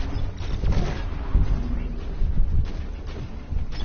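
A grenade detonates amid combat in Deep Rock Galactic, with low rumbling booms and crackling bursts layered over a continuous din of gunfire and action noise.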